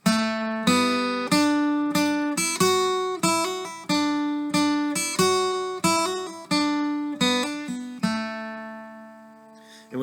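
A guitar plays a single-note lead line in a lesson, picked notes in an unhurried rhythm with each one ringing and decaying, ending on a sustained note.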